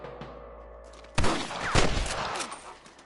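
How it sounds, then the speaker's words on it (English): A burst of gunfire in the Western video game Red Dead Redemption: several sharp shots crack in quick succession after a quieter lead-in, with echoing reports trailing off. "I can hear more gunshots."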